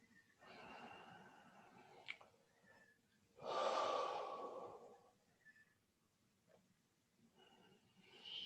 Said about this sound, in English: I want you to take 3 deep breaths.